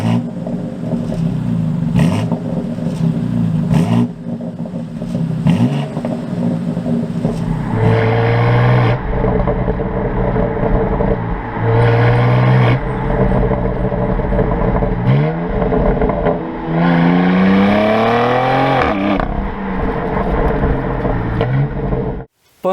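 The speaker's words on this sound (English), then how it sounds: "one of the best sounding is the 3-liter inline-6 that's under the hood of the BMW" The 3-liter inline-6 of a BMW X4M Competition revs repeatedly and loudly, with rising and falling pitch sweeps and sharp throttle blips, then a sudden cut at the end.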